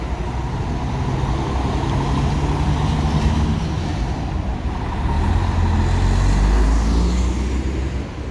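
An EVT intercity bus whose route ends in Osasco drives past on a busy road, its deep engine rumble loud and close and swelling toward the end over a constant wash of traffic.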